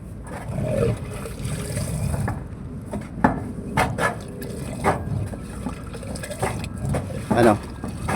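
Water gurgles and trickles through a clogged roof downspout, with intermittent splashes and knocks over a steady wet rush while people talk nearby.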